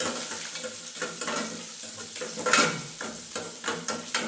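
Green chillies and curry leaves fry in hot oil for a dosa dish, a steady sizzle broken by repeated scraping stirs of a spoon in the pan, close and fairly loud with no voices.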